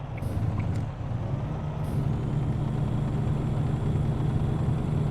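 A semi truck idles and rumbles steadily in the video game American Truck Simulator, with a couple of short hissing air brake bursts near the start over a constant low engine drone.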